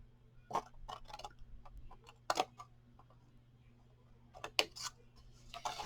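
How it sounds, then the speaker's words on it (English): Blade scoring a line into paper for a large spooky-themed matchbox, heard as a few sharp ticking cuts spread across a quiet stretch, with the two loudest snips standing apart near the middle and end. "And then you're going to cut this little score line right here."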